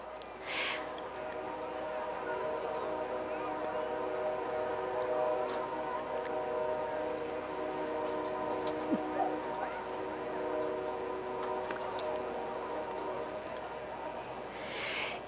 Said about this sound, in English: We're going to wait on the train for a minute.